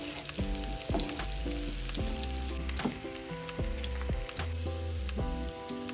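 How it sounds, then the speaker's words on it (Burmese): Sliced onions sizzle steadily in hot oil as crushed garlic goes in for a Burmese tomato, egg and shrimp paste dish, a constant close frying hiss with soft clicks over background music. "ကြက်သွန်နီလေးတွေအနှဲငယ်နွမ်းသွားရင်တော့ငါးပြရိုက်ထားတဲ့ကြက်သွန်ပြူလေးကိုထည့်ပါမယ်ခင်ဗျ"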